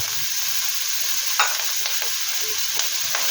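Onions and meat stir-fried for chao fan sizzle steadily in a hot pan, with a few brief scraping and tapping stirs from the spatula over the constant hiss.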